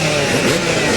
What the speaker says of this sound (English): We're revving up, and we're getting ready to see if Carmichael can win his 8th straight